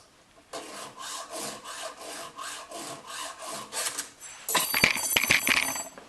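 Hand file rasping across a Poulan 3816 chainsaw chain in a series of about nine rhythmic gritty strokes, close and moderately loud, followed by clinks and rattling of metal as the chain or tool is handled.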